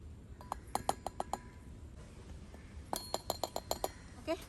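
A metal spoon scoops coffee powder into a steel South Indian coffee filter, giving crisp, bright clinks in two quick rhythmic runs of taps, close and fairly quiet, separated by a short lull.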